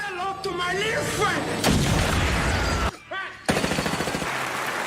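Uzi submachine gun fire comes as rapid automatic bursts and booming reports, with a fast run of shots near the end, all mixed with other battle noise.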